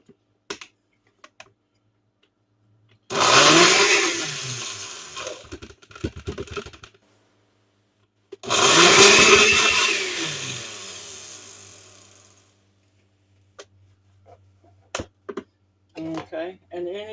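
A kitchen food processor chopping black olives runs in two loud whirring bursts of several seconds each. Clicks and handling sounds fall between them.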